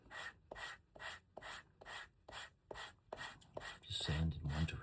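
Sandpaper rubbed along the edge of a leather bifold wallet in one direction, a regular series of about ten short rasping strokes, close and quiet, with a louder rough scrape near the end.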